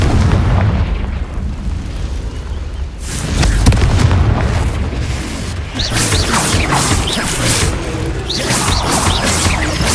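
Spell explosions from Confringo and other combat spells in the Hogwarts Legacy video game, played on hard difficulty: a loud, rumbling boom, then repeated bright blasts and crackling impacts with no pause between them.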